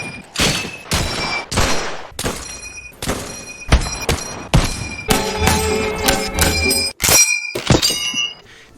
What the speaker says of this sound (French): Je connais pas d'autres fusils qui rechargent avec l'iconique ping.